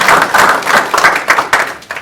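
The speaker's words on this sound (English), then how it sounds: "let's still give her a round of applause." A brief burst of clapping from a small group at a Beatrice Public Schools meeting, uneven claps overlapping for a couple of seconds.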